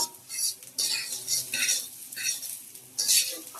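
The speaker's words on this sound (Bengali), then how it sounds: "এবার দিলাম হলুদ, মরিচের গুঁড়া। এবার এগুলোকে একটু ভালো করে ভাজবো" Turmeric and chili powder are fried with rice and lentils, heard as uneven bursts of scraping and stirring against the pot with a soft sizzle underneath. The bursts come close and intermittently, with no talking.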